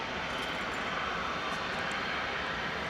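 Boeing 747 jet engines hum and hiss at a steady, moderate level while the airliner readies for takeoff at DFW Airport at night, a continuous roar with no voices.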